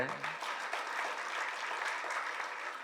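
An audience gives a round of clapping for a critic at a comedy event with actor Vivek, a quiet, even wash of hand claps heard from a distance with some murmuring among them.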